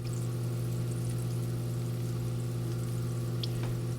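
Hygger air stone in an aquarium bubbling steadily with its pump airflow turned down, a soft continuous bubbling wash over a low, constant pump hum, even and unbroken throughout.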